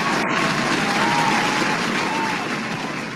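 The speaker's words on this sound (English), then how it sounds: "Give him a round of applause, people." Crowd applause for Super Bowl champion Tom Crabtree on a sponsored show, a continuous wash of many hands clapping, fairly even and slightly fading toward the end, with a faint voice underneath.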